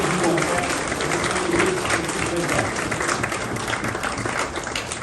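A crowd at a speech applauds loudly and continuously, dense clapping filling the whole stretch with a few voices mixed into the noise.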